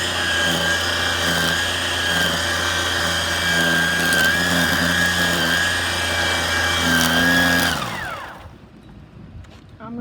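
A gas-powered weed whacker runs at a steady, loud idle close by, its engine droning evenly for about eight seconds before cutting off abruptly and leaving near silence.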